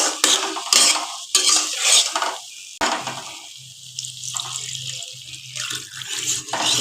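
Water poured into a pan of green banana kofta curry and stirred, giving splashing, swirling liquid sounds with metal utensil scrapes and clinks against the pan, close up and alone.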